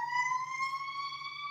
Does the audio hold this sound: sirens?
yes